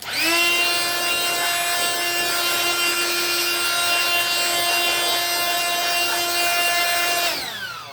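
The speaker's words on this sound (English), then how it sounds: "And that just blows all of the sawdust off the tool so I can get ready to clean it." A small electric blower blows sawdust off power tools, giving a loud, steady, high-pitched motor whine with a strong tonal hum that runs for several seconds and then winds down at the end.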